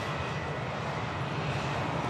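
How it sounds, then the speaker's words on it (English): EasyJet airliner bound for Jersey at Manchester Airport, a steady broadband engine roar holding at constant level throughout, close and continuous with no voices. "On board the Jersey bound EasyJet."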